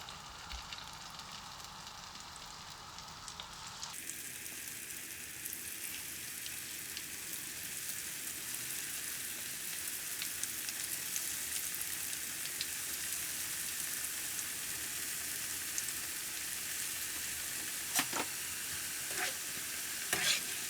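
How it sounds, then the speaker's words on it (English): Sweet potatoes drop into hot oil in a pan and set off a loud, steady sizzle of frying that carries on without a break, following a few seconds of quieter background. "We now can start putting in our sweet potatoes."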